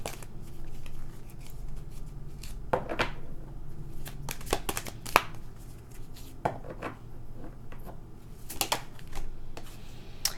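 Tarot cards being shuffled by hand, a run of soft riffling and flicking bursts at irregular intervals over a quiet room background, with no talking.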